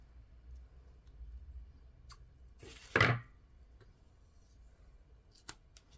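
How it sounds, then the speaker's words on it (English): A single sharp, close snip of scissors cutting waterslide decal paper near a candle, set against near silence with a faint click afterward. "I just want to give it a quick snip, just a small one, without scratching my candle and without it folding."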